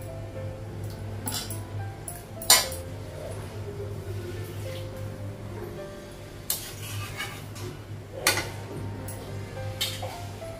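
A metal lid clinks onto a cooking pot of Bengali egg curry with eggplant, a few sharp, brief clanks over a steady low kitchen hum, otherwise fairly quiet.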